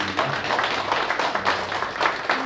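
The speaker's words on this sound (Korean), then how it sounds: "박수로 환영해 주시면" Church congregation applauding to welcome an elder during a Sunday worship service: a steady, moderately loud patter of many hands clapping fills the room throughout, with faint murmuring underneath.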